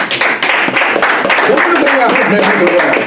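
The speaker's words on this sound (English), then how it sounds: "Let's give our videographer a round of applause, y'all" Applause for a videographer at a Silver B Star Mix gathering, a dense steady patter of hand claps from a nearby group lasting the whole stretch, with voices mixed in under the clapping.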